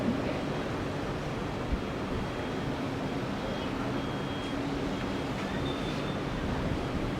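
Sea waves at Pattaya, heard from a hotel balcony, give a constant, even wash of distant surf blended with faint background hum, with no distinct breaks or voices.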